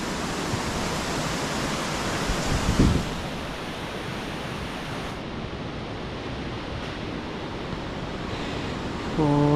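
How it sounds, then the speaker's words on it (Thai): Steady broadband wind roaring into the microphone, constant and loud throughout, with a brief gust-like thump near the start. "โอ้เสียงลมนี่"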